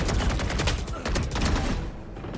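Rapid bursts of gunfire from the video game Valorant crackle in quick succession, loud and dense, tapering off toward the end.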